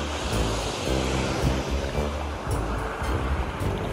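Sea waves wash and churn loudly and continuously around a small self-driving boat being deployed into the sea, with heavy low rumble and wind buffeting close to the microphone.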